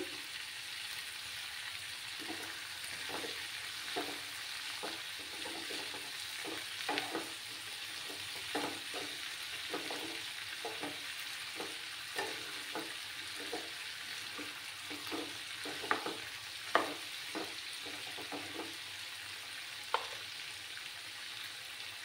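Cauliflower stems fry with a steady bright sizzle in a pan while a spatula scrapes and stirs them in frequent short, close strokes throughout.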